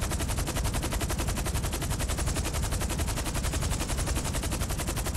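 Gunfire in GTA 5 Online as people open up on the player, a relentless rapid machine-gun stream of sharp shots at an even rhythm, loud and continuous throughout with no talk.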